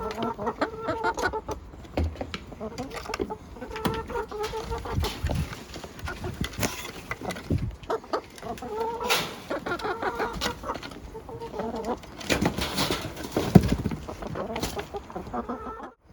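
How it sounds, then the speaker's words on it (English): Several chickens, including white hens, cluck and murmur nearby at morning feeding, with scattered footsteps and shuffling and occasional soft talk in the background. "Shakira, one of our white chickens, prefers drinking out of a dog bowl"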